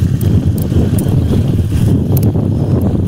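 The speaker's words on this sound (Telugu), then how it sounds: "ఇప్పుడు బీభత్సమైన గాలి వస్తుంది" Strong wind roars continuously into the microphone outdoors at a night campsite in Araku, a dense, gusty rumble that stays loud throughout.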